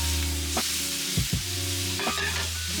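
Oil sizzles steadily in a frying pan, a dense hiss with a low electrical hum beneath it and a few knocks of utensils, close by.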